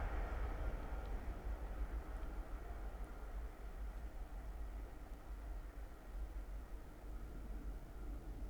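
A Class 360 electric multiple unit, 360 102 leading and 360 104 at the rear, passing on the Midland Main Line at Ayres End Lane: a steady, broad roar of wheels and rushing air held loud throughout without fading.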